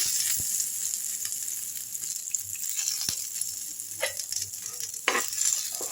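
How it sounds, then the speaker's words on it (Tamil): Ginger and tamarind sautéing in a hot pan for black urad dal chutney, a steady close sizzle with a few spoon scrapes and knocks toward the end. "இதில் வந்து இஞ்சும் புளியும் போட்டுக்கலாங்க அது ஒரு பக்கம் வதங்கிட்டு இருக்கட்டும்"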